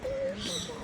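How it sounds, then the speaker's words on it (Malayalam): Birds in a zoo aviary of macaws and parrots give a short clear whistled call followed by fainter chirps and coos, heard at moderate distance within a noisy visitor setting. "ഇതിനകത്ത് ഫുള്ള് കിളികളുണ്ട്."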